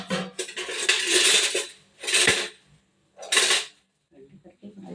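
A dosa griddle and kitchen utensils are handled, giving three separate bursts of metallic clattering and scraping with quiet gaps between them, close by, then a few softer knocks at the end.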